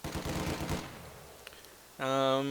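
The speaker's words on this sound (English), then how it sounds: "Hear that MG-42 opening up." An MG-42 machine gun in Company of Heroes 2 rattles off a rapid burst over about a second and fades out. A tonal, voice-like sound enters near the end.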